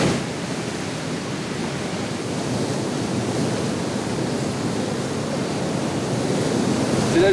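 A waterfall in river rapids gives a continuous, even rush of churning water with no pauses and no voices.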